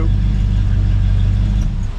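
A K5 Blazer with a freshly swapped big block 454 V8 idles close by, a loud steady low rumble that runs evenly through, easing slightly near the end.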